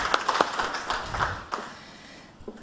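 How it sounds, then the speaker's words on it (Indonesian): Audience applause at a university Faculty of Medicine event, a brief scattered patter of clapping that fades out over a couple of seconds, fairly faint and mixed with room noise. "dan untuk itu aplaus untuk Bapak Ibu sekalian"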